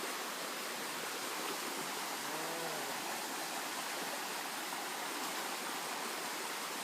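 A waterfall and stream flowing, a dense, even roar of rushing water that fills the whole stretch without change, close and loud, with no voices.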